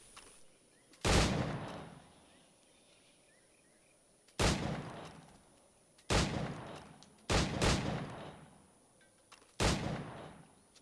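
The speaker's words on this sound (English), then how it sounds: "Ah, the Puckle gun." A Puckle gun in Assassin's Creed IV: Black Flag fires five loud, sharp booming shots, spaced irregularly a second or two apart, each blast trailing off into a rumbling decay over quiet ambience.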